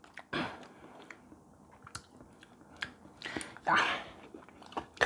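Crisp, crunchy chewing of Samyang young radish bibim noodles in an up-close mukbang, with several distinct bites and crunches spaced through a quiet background, no talking.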